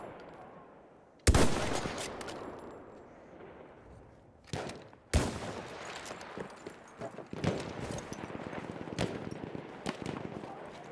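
An enemy machine gun fires in a Battlefield 1 team deathmatch, with sharp bursts of rapid shots at varying distances. Loud cracks punctuate a stretch of quieter ambient battle noise.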